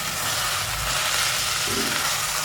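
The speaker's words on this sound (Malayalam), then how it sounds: "സവാള നല്ലതുപോലെ ഒന്ന് വഴങ്ങി വെക്കണം" Onions sautéing in a pan for a Karimeen pepper fish curry give a steady, close hiss of frying that runs without pause and without any voices.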